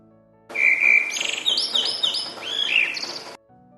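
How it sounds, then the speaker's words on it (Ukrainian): Bright chirping birdsong, several quick whistled phrases and tweets in a row, clear and close, with no voices. "а це спів пташок"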